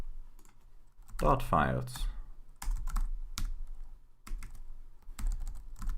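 Quick bursts of computer keyboard typing, key clicks coming in short clusters between pauses, with someone talking over parts of it.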